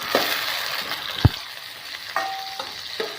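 Onion and tomato sauté in a pan, a steady close sizzle broken by a few sharp clinks and scrapes of a spoon against the metal.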